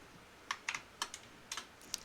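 Keys on a computer keyboard are struck in a sparse, irregular run of about six crisp taps, quiet and close in a still room.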